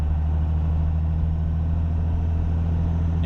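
Cummins diesel van engine in third gear, throttle applied just below 1,000 RPM, giving a steady low, droning rumble with strong bass tones that holds even throughout, close and continuous with no talk.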